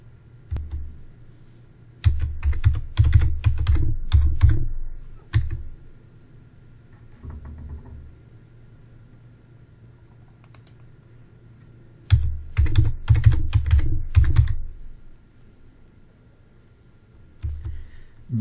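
A password is typed on a computer keyboard in two quick bursts of rapid key clicks, with a few isolated taps and quiet pauses between them, close and clear with no talking.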